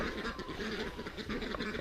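Geese kept among farmyard poultry with chickens, honking and calling in a steady, busy flock chatter that runs throughout, moderately close, with no talk over it.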